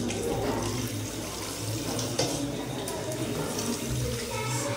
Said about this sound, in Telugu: హ్యాండ్ వాష్ చేసుకుంటున్నారు ఫ్రెండ్స్.